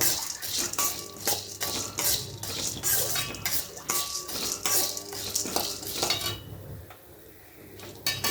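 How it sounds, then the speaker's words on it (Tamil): Dry ingredients being roasted and stirred in a pan over a slow flame, with a spoon scraping and clinking against the metal in steady repeated strokes, close up, alongside a soft sizzle. "ஸ்லோ ஃப்ளேமில் தான் வச்சு அதை வந்து வறுக்கிறேன்"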